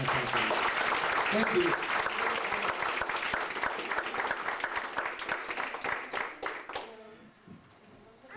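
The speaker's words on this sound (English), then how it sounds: "Let's give God a hand clap" An audience at a school program claps for God: steady, full applause that gradually thins out and fades, with a voice speaking briefly over it near the end.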